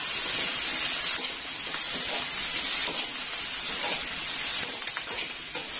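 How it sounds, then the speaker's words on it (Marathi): Onion frying in a pan for chilli paneer gives a steady, close, even sizzle that hisses without break from start to finish, with no voices. "हा कांदा याच्यामध्ये थोडासा मी फ्राय करून घेत आहे"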